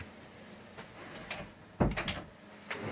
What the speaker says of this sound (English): hang on, let me shut my door.